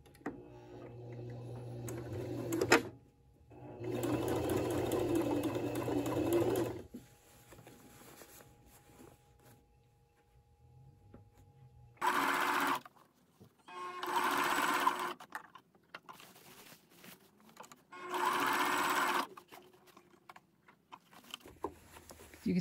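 Sewing machine stitching a dress shirt sleeve during a shortening job, running in several separate bursts of rapid, steady needle chatter with quiet pauses in between and no talk.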